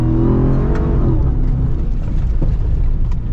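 Custom Ram TRX pickup truck tearing along an off-road trail at about 50 mph, a loud continuous engine roar with wind and rattling, shifting pitch as it drives hard.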